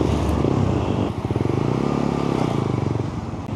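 A Suzuki GSX 150 fitted with an R77 aftermarket exhaust and resonator runs close by, its engine revving with a steady, throaty drone that dips briefly and then holds a pulsing note to the end.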